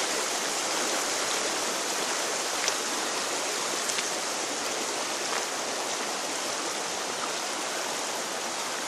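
Floodwater rushes in a constant, dense roar over a road, like a swollen stream surging past, steady throughout with no talking.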